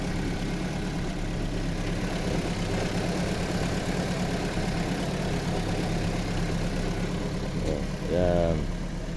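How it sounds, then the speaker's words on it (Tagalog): A restored 2002 Toyota Altis sedan engine idles steadily and close by, a smooth continuous hum that holds even throughout, with a brief rise in level near the end. "Ito na yung ni-restore ko na Toyota Altis 2002 model. Ang ganda ng andar, oh."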